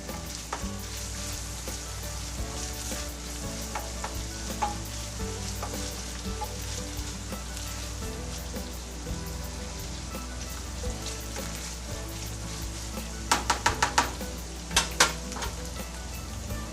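Hamburger meat browns for sloppy joes in a pan with a constant close sizzle, while stirring adds scraping sounds and a few quick utensil clinks toward the end.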